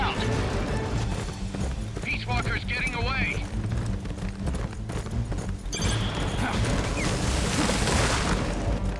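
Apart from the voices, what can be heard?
horse galloping in video game Metal Gear Solid: Peace Walker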